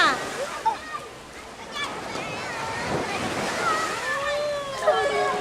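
Ocean waves break and wash up on a beach, a steady surf roar with a few surges, while children and adults talk and shout excitedly nearby.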